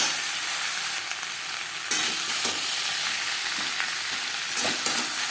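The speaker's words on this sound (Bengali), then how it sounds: "ভাজা মশলা আলুর সাথে বেশ ভালো করে মিক্স করে দেবো।" Potatoes fry with a roasted spice mix in a little oil for a garlic- and onion-free rui fish curry, giving a loud, continuous sizzle broken by scraping stirs.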